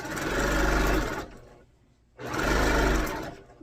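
Sewing machine stitching quilt borders, running in two loud continuous bursts of rapid whirring separated by a short quiet pause.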